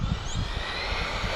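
An RC truck running an XC-ESC E6 200A ESC with a 4990 1650Kv motor at full throttle gives off a steady, loud, unbroken roar and whine.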